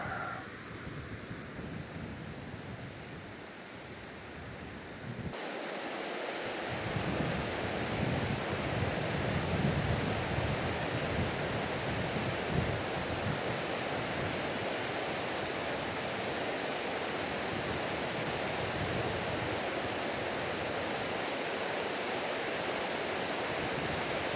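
Water roars over the full Tunstall Dam in Weardale on a freezing day, a loud, steady, broadband rush that swells after a few seconds and then holds unbroken, with some wind buffeting and no speech.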